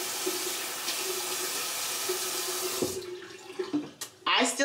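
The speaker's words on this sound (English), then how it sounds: "let me go ahead and wash my face" Water runs steadily from a bathroom tap into a sink as someone washes their face, a constant rushing hiss that cuts off near the end and gives way to splashing and handling sounds.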